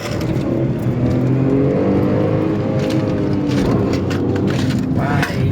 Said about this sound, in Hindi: अब देखते हैं कितने 1000 RPM जाती है।